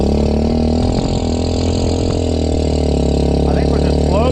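A lifted Chinese ATV runs beside a pond with a steady, loud mid-pitched engine drone that shifts slightly in pitch, while voices talk over it.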